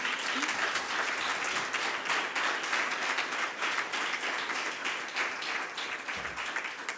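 Sustained applause from an audience at a poetry book presentation greets Anabel Alonso, dense and steady clapping that keeps going for about seven seconds at moderate distance, with a brief low voice near the end.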